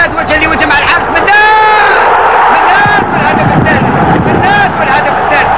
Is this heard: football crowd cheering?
yes